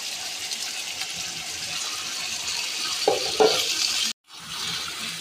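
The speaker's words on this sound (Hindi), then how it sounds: "आलूओं को हम थोड़ी देर के लिए फ्राई करेंगे, तकरीबन 5 मिनट के लिए।" Potatoes fry in a pan with a soft steady sizzle, a couple of stirring scrapes heard near the end before a brief dropout.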